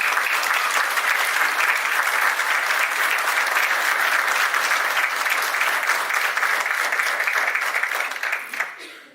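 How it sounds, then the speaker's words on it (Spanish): Sustained applause from an audience at a book presentation on local history in Pichilemu, a steady dense patter of many hands that holds loud for most of the stretch and then thins out and fades at the very end. "por favor, nuevamente un gran aplauso para ti"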